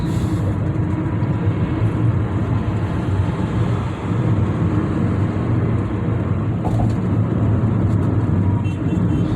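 Road traffic rumbles continuously from close by, a steady mix of vehicle engines and tire noise with a brief higher-pitched passing sound near the end.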